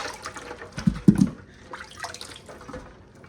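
Water drains off cooled sweet corn cobs set beside a sink after an ice bath, with a short splashy burst followed by quieter, steady trickling and dripping nearby.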